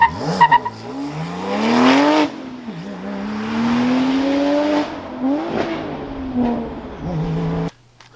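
Porsche 997 Turbo under hard acceleration: loud rising engine tone climbs, drops at a shift, then revs again with a missed third-gear shift before cutting off abruptly.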